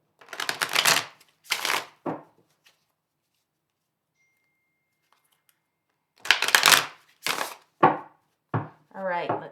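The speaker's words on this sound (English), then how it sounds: "Let's get a couple of good shuffles in here." Two bursts of riffling tarot cards, a pause of near silence, then several more quick shuffles and snaps, close and fairly loud.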